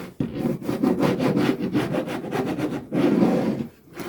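A hand file rasps splinters off the edges of small wooden tower blocks, making quick rhythmic back-and-forth scraping strokes, close and steady, with a brief pause partway through.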